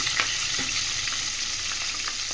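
Dried chilies, green chilies, garlic and ginger fry in oil, a loud continuous crackling sizzle with occasional light stirring taps, no voices.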